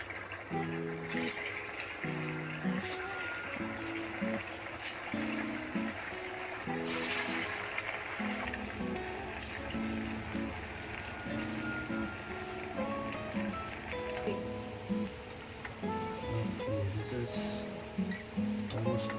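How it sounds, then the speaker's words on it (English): Arbi (taro root) deep frying in hot oil: a continuous bubbling hiss runs throughout, close and moderately loud, with a faint melodic tone playing underneath. "after some time we'll squeeze it and again deep fry it until it becomes crispy"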